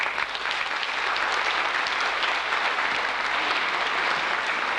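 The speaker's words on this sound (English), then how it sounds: "May I request a loud applause for them." Audience applause at a school annual day event, a dense, sustained clapping from a large crowd that stays steady and fairly loud throughout.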